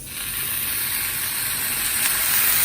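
Loud, steady sizzling hiss of sauce poured onto a hot metal sizzler plate, continuous and close throughout, with a faint crackle.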